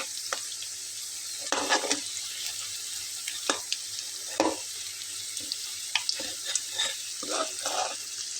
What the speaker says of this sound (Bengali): এই যে এভাবে উল্টো পাল্টে গোল্ডেন ব্রাউন করে ভেজে নেব